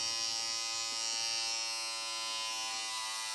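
A King C Gillette Style Master electric shaver from 2021 shaving a lathered face, a close, continuous high-pitched buzz that holds steady and loud throughout.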